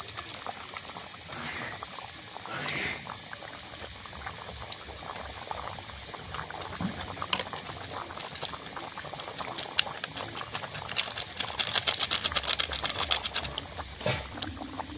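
Rohu fish curry with potatoes and cauliflower bubbles steadily in a pot, a continuous close boiling and popping texture with scattered small pops and light clinks, with no talk.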